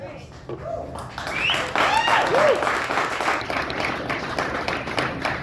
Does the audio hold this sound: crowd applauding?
yes